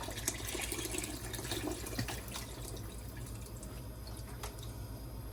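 Water is poured from a box into a soup pot along with vegetable stock for green pea soup, giving a steady quiet splashing and trickling throughout with no talk.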